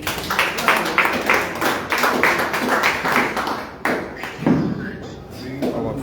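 An audience at a Liberia Leadership Academy ethical citizenship class claps for a student, with fairly close, loud, thumping hand claps that come in ragged bursts and dip briefly before resuming.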